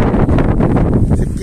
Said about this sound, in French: Pas sûr qu'il y ait moins de vent par là.